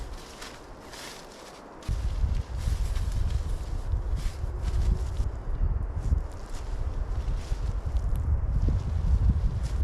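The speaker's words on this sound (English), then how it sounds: "It's quite windy." Low, blustery wind rumbles against the microphone outdoors on a forested hilltop while tarp camping, with rustling and occasional footsteps or handling noise, steady and close.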